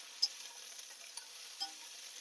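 Carrots and other vegetables cooking in a pan for a village-style rum pum dish: a steady soft sizzle and frying hiss with faint stirring scrapes, close and unbroken, no voices.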